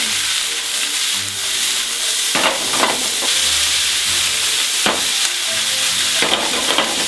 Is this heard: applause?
no